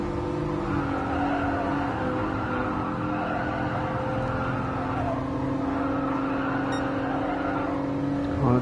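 A racing car roars past at a race day, a loud continuous engine drone with steady high-pitched whine dominating throughout, with no talk.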